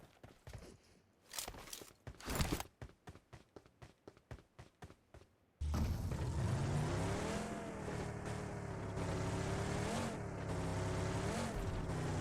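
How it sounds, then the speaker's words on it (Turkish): A car driving in PUBG Mobile: after a few seconds of footsteps, a steady loud engine drone sets in and holds, its pitch rising and falling as the vehicle speeds up. "Şuradan bir araba alıp hemen şöyle bir 150-200 metre uzaklığa bir gidelim."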